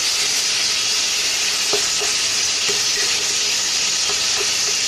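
Tomatoes fry in a pan with a continuous loud sizzle, broken by a few soft knocks and scrapes from stirring.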